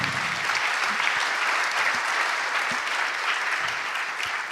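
Audience applause fills a conference hall, a steady dense clapping from many hands held at an even level throughout, close and continuous without voices on top.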